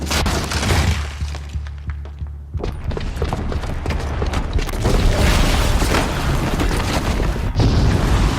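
A bomb's booby trap detonates in Horizon Zero Dawn, a loud sustained blast with deep rumbling, crackling debris and shattering that persists throughout, surging again near the end.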